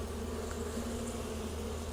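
Honey bees buzzing around an opened hive during an inspection, a steady low drone holding throughout with no voice over it.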